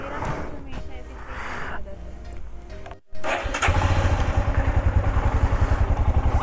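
A motorcycle engine catches after a brief pause and settles into a loud, steady, close idle with rapid rhythmic pulsing, following a stretch of background noise and talk, as a bike ride from Delhi to Mussoorie in Uttarakhand gets underway.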